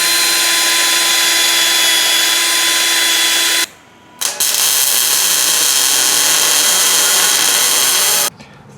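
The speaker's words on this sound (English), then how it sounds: "I'm going to sand this down and weld this tab here." Power sander grinding down metal on a rear axle before welding a brake tab for a drum-to-disc brake conversion, a loud steady whine running continuously, cutting out briefly midway, then resuming until near the end.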